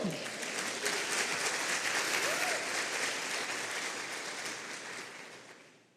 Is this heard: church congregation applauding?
yes